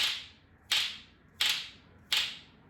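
Musical spoons rubbed quickly down a spread hand give four bright, rattling swishes, each a sharp attack that fades over about half a second, evenly spaced and close with no talk.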